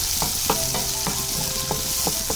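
Onions and curry leaves sauté in hot oil in a pan, producing a loud, continuous sizzle broken by repeated scraping stirs, with no voices.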